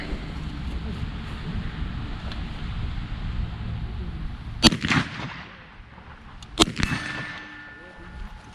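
A Yugo SKS rifle fitted with an oversized replacement gas valve fires two rounds outdoors, two sharp, loud cracks about two seconds apart, each with a ringing metallic tail, over steady wind noise.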